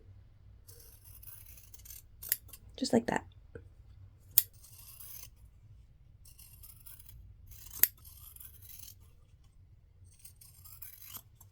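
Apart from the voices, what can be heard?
scissors cutting fabric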